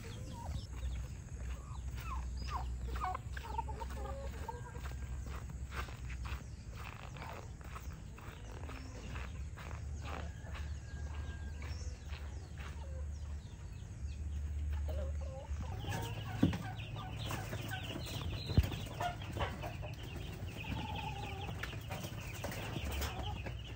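A flock of chickens on a poultry farm clucks and chatters continuously in a dense, busy chorus, with a steady low hum beneath and a couple of sharper squawks near the end.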